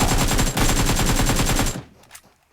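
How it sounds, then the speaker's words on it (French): Rapid automatic gunfire in the video game PUBG on the Miramar map, a dense loud burst of evenly spaced shots lasting over a second, then cutting off to faint scattered after-sounds. "il va tirer dessus, je crois"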